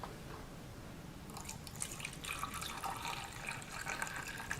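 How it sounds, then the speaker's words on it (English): Buffer pouring into an SDS-PAGE gel box, a soft steady trickle of liquid that starts about a second in and carries on close by with small splashy drips, no talking. "So I can fill up to the line with buffer."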